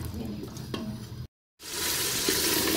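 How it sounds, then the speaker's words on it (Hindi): Mutton frying hard in cooking oil over high heat for gobi gosht, a dense, steady sizzle that cuts out abruptly for a moment and then resumes louder and brighter, with no talking. "कुकिंग ऑयल ऐड करने के बाद हम इसे अच्छे से भून लेंगे तेज़ आंच पे"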